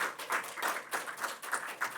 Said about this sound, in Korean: 환영의 박수로 올려드리겠습니다.